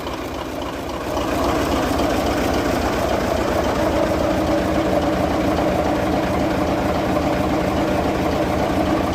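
A Mitsubishi 8M20 diesel engine runs during an alternator test, starting up after a second and settling into a loud, steady, low rumbling idle close by.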